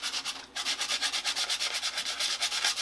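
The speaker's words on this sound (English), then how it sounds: "right now I'm just gonna sort of keep sanding away at this." Rhythmic scraping of sandpaper rubbed back and forth by hand, a quick steady series of gritty strokes close by.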